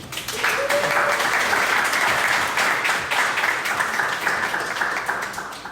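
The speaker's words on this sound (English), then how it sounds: "Let's give them a round of applause." Audience applause at an artist talk for the show Death, Like a Door, dense, sustained clapping from a room full of people that swells quickly and stays steady before tapering slightly.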